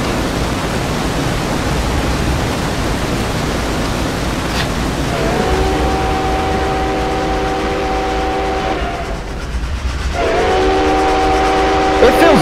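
A freight train locomotive rumbles steadily, heard from inside a DPU unit in the consist. The engine drone and rail noise stay loud and constant, and sustained horn-like tones sound twice in the later part.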